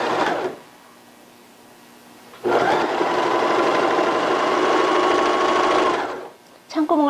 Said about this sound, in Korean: 가름수로 해서 박음질 하겠습니다